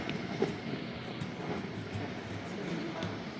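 An Elizabeth line Class 345 train gives a steady, close rumble and low hum throughout, with people talking over it.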